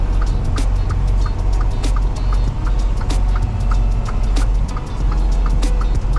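Semi truck descending a long 7% grade with the engine brake engaged, a loud, steady low rumble from the cab with repeated sharp clicks and ticks across the whole stretch.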